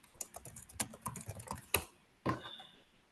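Keystrokes clatter on a computer keyboard in quick irregular bursts, fairly close, followed by two sharper isolated key strikes, with no talking.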